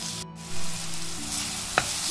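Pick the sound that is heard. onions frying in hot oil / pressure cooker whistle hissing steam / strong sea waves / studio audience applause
onions frying in hot oil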